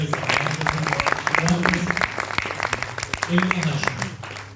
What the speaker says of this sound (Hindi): एक बार जोरदार तालियों से इल्मा का